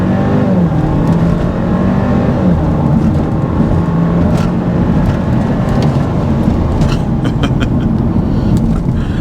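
A 2024 Audi A5 Sportback in dynamic mode, without launch control, pulls away from a standstill and bogs down slightly. The engine roar is steady, loud and dense throughout, with no talking.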